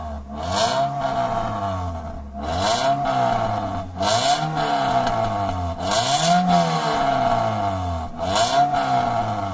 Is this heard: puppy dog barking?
no